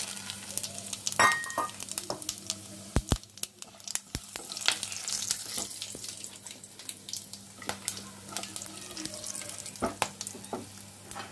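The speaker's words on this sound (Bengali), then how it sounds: "কড়াতে তেল বসিয়ে দিয়েছি, তেলটা গরম হয়ে গেছে। এবারে আমি দিয়ে দিচ্ছি এই খাড়া গরম মশলাটা" Whole garam masala fries in hot oil in a kadai, giving steady crackling sizzle with scattered sharp pops and a wet, hissing wash throughout, fairly close and continuous.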